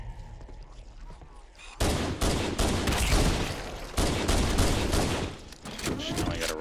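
Magnum pistol in the shooter game Halo: Combat Evolved, heard as a rapid run of loud sharp shots amid dense battle noise, with a quieter lead-in before the firing erupts.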